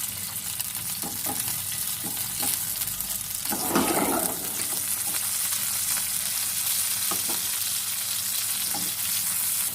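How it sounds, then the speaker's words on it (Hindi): Ginger garlic paste frying in two tablespoons of oil in a frying pan, a loud, close, continuous sizzle with scattered stirring clicks and a brief burst of spattering midway; nobody speaks. "सबसे पहले फ्राई पैन में 2 टेबल स्पून ऑयल डालेंगे और उसमें 2 table spoon ginger garlic paste डालेंगे।"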